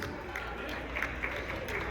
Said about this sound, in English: a nice round of applause for these great dancers